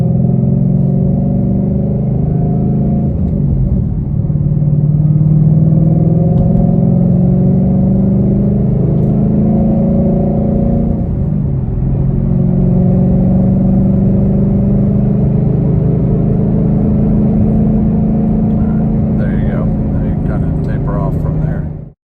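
A 2013 Roush Stage 3 with headers accelerates through the gears, shifting under 3,500 RPM: a loud, close engine drone rises in pitch, drops at each shift and climbs again, with brief talk near the end.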